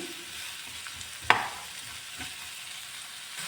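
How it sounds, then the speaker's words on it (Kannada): Onions frying with a little salt in a pan over a medium flame give off a soft, steady sizzle, with one brief utensil tap partway through and no talking. "ಸ್ವಲ್ಪ ಉಪ್ಪು ಹಾಕ್ಕೊಂಡು ಫ್ರೈ ಮಾಡ್ಕೊಳ್ತಾ ಇದ್ದೀನಿ ಮೀಡಿಯಂ ಫ್ಲೇಮಲ್ಲಿ ಇಟ್ಕೊಂಡು ಫ್ರೈ ಮಾಡ್ಕೊಳ್ತಾ ಇದ್ದೀನಿ"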